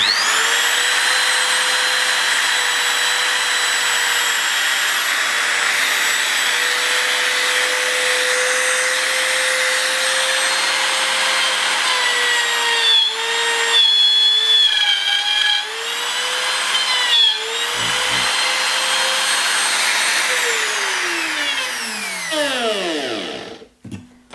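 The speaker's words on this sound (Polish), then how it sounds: "Odpalamy frezarkę." A high-pitched wood router whines steadily with a few brief dips as it cuts a groove, then spins down at the end.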